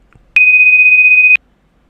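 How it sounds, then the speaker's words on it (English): A single loud electronic alert beep from a Python road accident detection program flagging a car collision, a clean steady tone lasting about one second between quiet gaps. "Continuously it will give the beep sound."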